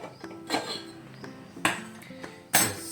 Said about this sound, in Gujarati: આ તપેલી ગેસ ચાલુ કર્યો છે અને હવે તપેલી મૂકી દઉં